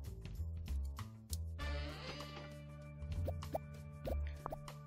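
Bubbles pop in quick succession in Game Dev Tycoon, a string of soft, close plopping sounds over a quiet tonal game background with no talking.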